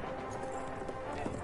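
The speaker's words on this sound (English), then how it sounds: "Horsey coming in." Horse hooves clip-clopping at a gallop in the first-person shooter Battlefield 1, a steady rapid rhythm of hoofbeats heard over continuous game noise for a brief moment.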